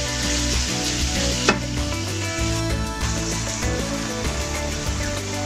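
Beef mince fries in a pan, a close, loud crackling sizzle running steadily throughout, with a sharp knock early on and background music underneath.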